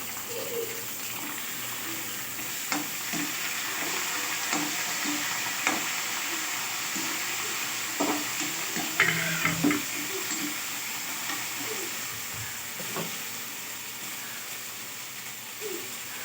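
Chopped banana stem sautéing in a pan after a tempering of curry leaves has spluttered, a soft continuous sizzle with occasional scrapes and light clicks of stirring, fairly close and without talk.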